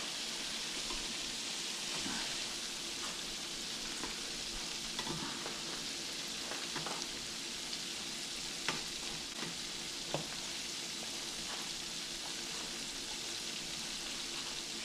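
Squirrel pieces fry in a hot pan, with a steady, dense sizzle and crackle running the whole time and a few sharper pops, close up and with no talking.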